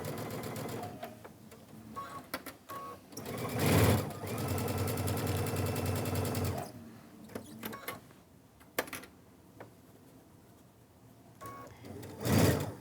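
A sewing machine stitches a ruffled zipper pouch, running in steady mechanical bursts with short pauses between runs, close and fairly loud with no talking.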